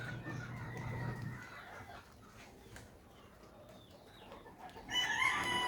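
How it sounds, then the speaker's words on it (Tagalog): Chickens in a backyard garden, with clucking and a rooster crowing near and clear, loudest toward the end against light outdoor background noise. "I think mga kabuchi chickens were able to enter my garden"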